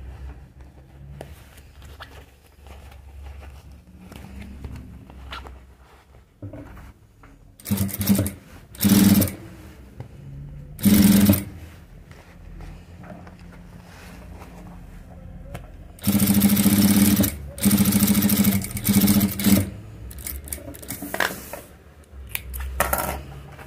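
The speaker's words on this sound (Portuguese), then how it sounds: "Depois que eu terminar de costurar esse lado aqui, eu vou refilar" A sewing machine stitches fabric in several loud, droning bursts of a few seconds each, separated by quieter stretches of faint handling noise.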